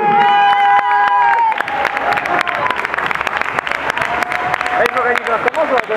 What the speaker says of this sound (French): applaudissez très fort les Grégo Picard qui remportent ce jeu.